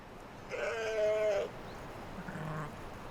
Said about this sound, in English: Sheep were everywhere.